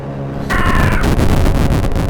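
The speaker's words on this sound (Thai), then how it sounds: "ผมชนนกเขาแมวครับ" In the horror driving game Dead End Road, a car strikes an owl. A sudden loud thud comes with a short, harsh, cawing screech, followed by a heavy, noisy engine rumble.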